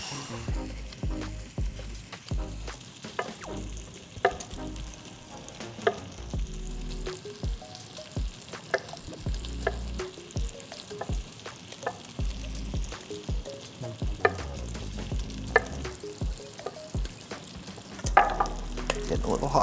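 Vegetables for clam chowder sweat in a hot pot with a soft, continuous sizzle, broken by frequent clacks and scrapes of stirring, heard close and fairly quiet throughout.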